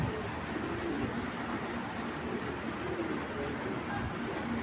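Soft, steady cooing of racing pigeons runs through a noisy, continuous background hum, with no clear talking over it.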